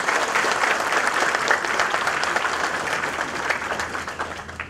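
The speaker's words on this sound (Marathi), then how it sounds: "साहेबांचं आपण एकदा जोरदार टाळ्या वाजवून स्वागत करूया." Sustained, dense applause from a large crowd at a speech, steady and loud throughout with no gaps.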